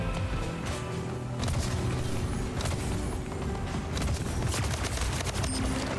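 Plasma rifle fire from the game Splitgate, a dense and continuous stream of energy shots at steady loudness that runs the whole time under busy in-game combat noise.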